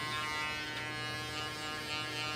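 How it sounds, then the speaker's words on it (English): An X Instinct electric hair trimmer runs steadily at close range, giving a continuous even buzz with a bright whine that holds at the same level throughout. "we got the new X Instinct trimmer"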